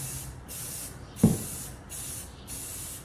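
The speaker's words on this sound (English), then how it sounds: "then you can start spraying" Aerosol spray can applying paint to ceramics in bursts, several short loud hisses separated by brief pauses, close to the microphone with one sharp tap in between; no talking.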